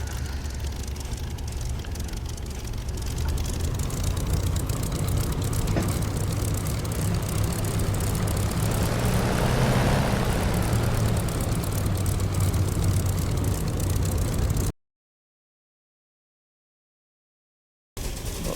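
In a flight simulator, a Spitfire propeller plane taxis with a steady, droning engine rumble that swells slightly in the middle, then cuts to silence for a few seconds before resuming.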